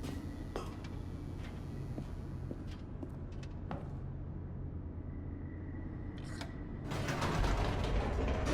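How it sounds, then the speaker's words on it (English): Elevator in The Stanley Parable descending, a steady low mechanical hum with creaks, clanks and scattered ticks, building to a louder rumbling whoosh near the end. "The elevator raced downward,"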